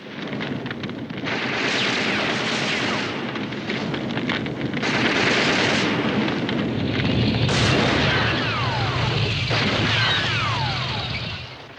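North Vietnamese forces lay down intense artillery fire during the final offensive of the Vietnam War. Dense, overlapping booms and rumbling blasts roll continuously at high volume with no pauses.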